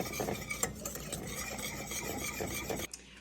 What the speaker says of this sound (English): I'm going to stir it constantly